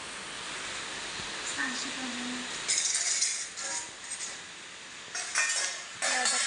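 Metal pots and utensils clink and clatter in a home kitchen as they are taken out, with a few sharp bursts of clanging over low room noise and a voice talking.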